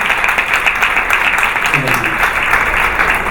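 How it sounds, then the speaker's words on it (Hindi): Sustained audience applause at the opening of a beautician venue, a continuous loud wash of clapping with faint voices mixed in. "तालियों में कमी हो रही है, कंजूसी बिल्कुल नहीं"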